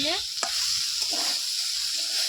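Pumpkin greens with small field crabs and potatoes are stir-fried in a pan, producing a continuous close sizzle with brief scraping stirs over it and no voices.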